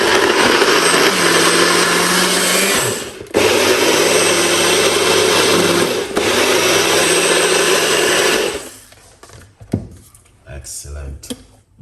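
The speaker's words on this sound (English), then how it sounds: "All right, now we're gonna blend it. Make a little bit of a noise." A countertop blender whirs loudly and steadily while pureeing beetroot, with two short dips where the motor pauses. It then stops, leaving brief clatter and quiet handling.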